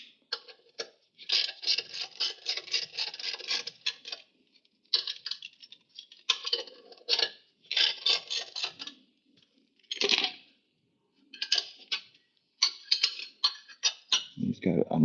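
A socket wrench works a bolt loose on the rear differential of a Toyota HZJ75, giving bursts of close metallic ratcheting clicks in uneven runs with short pauses, ending in a dull knock.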